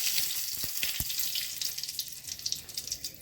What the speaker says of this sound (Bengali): দুটো শুকনো লঙ্কা দিচ্ছি, দুটো তেজপাতা দিচ্ছি,